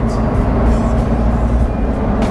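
A Jeep Wrangler TJ engine pulls hard under acceleration, a loud, continuous low roar filling the cabin with a steady growl.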